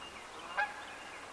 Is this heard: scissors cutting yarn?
no